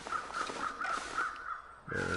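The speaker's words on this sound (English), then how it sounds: "Oh, look at that, crows." Crows in the survival video game The Long Dark give a steady run of repeated harsh caws over a constant windy ambience, clear and alone.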